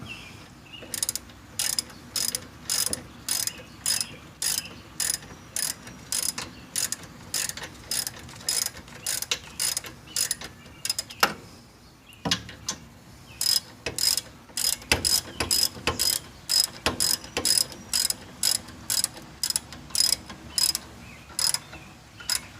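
Ratchet wrench tightening a brake caliper pin during a rear brake job with Powerstop Evolution Sport pads and rotors, a series of loud, close, rhythmic clicking bursts with short pauses between strokes, no talking.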